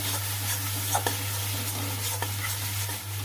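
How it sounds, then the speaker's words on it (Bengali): Whole spices fry in oil in a pan with a little garam masala powder added, giving a steady low sizzle with scraping stirs at intervals over a constant background hum. "আবার পুরো মশলাটা ভাজা হয়ে গেল"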